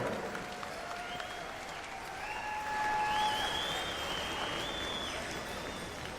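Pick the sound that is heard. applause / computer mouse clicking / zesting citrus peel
applause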